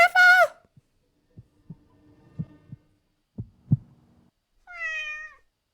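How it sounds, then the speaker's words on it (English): A cat meows in a video game: a clear, high meow opens the clip, a few soft taps and thuds follow, and a second, shorter meow comes near the end. "A cat?"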